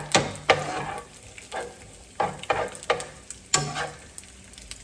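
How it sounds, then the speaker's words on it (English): Pasta is tossed with bacon in a pan for carbonara, giving a soft sizzle under a series of scraping, clattering tosses and stirs spaced about half a second to a second apart, close up. "We're gonna add our pasta in here, and we're gonna toss it to coat."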